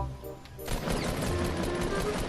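Video game gunfire in a fast, continuous volley that starts abruptly and stays steady and fairly loud.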